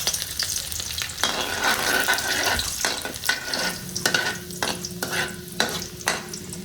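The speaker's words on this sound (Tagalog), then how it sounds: "Una, painitin natin ang kawali at ilagay ang mantika. Igisa ang bawang." Garlic sautéing in hot oil in a pan, crackling and sizzling steadily with repeated sharp scraping stirs, close and fairly loud, no voices.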